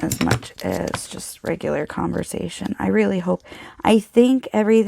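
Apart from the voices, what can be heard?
No distinct noise like a dog, phone or traffic.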